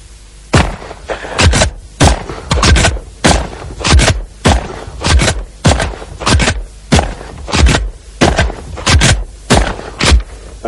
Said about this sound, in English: I'll shoot my last clay target.